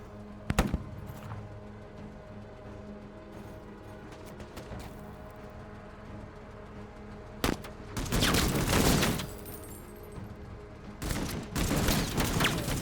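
Gunfire in the MENACE tactical video game comes in bursts: a sharp early shot, then heavy sustained volleys of rapid automatic fire later on, loud against a low steady background hum.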